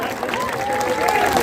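Audience applause at an outdoor political rally for Janata Dal Secular at Bunkar Lawns, a dense steady clatter of many hands lasting throughout, with a voice and some tonal sound mixed in over it.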